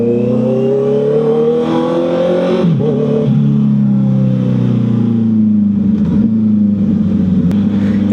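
A Honda CB650R motorcycle with an E-Clutch, its engine revving up loudly and close by and then settling back, with the pitch rising and falling through several revs. No voices are heard.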